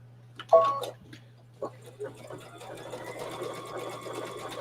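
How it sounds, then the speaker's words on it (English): A sewing machine stitching through fabric under the presser foot in a quilting foundation-piecing setup, starting with a few isolated clicks and thumps before settling into a steady rapid mechanical chatter over a constant low hum. "So I'm going to put this under the foot, and I'm going to start sewing."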